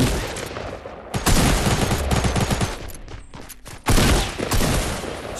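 Rapid bursts of gunfire in the video game Fortnite, loud and dense, two long volleys with a short lull between them, plus scattered single shots, with no talk over them.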